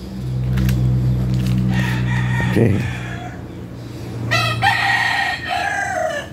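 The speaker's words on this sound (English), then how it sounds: "you can hear the rooster singing." A rooster crows loudly over a low background hum, with a short spoken word near the start and another crow rising toward the end.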